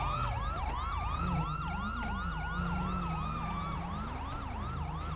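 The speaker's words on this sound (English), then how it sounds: "Sirens." Several wailing police sirens in a video game overlap continuously, their pitches sweeping up and down in a steady cycle, loud and close over a low rumbling engine.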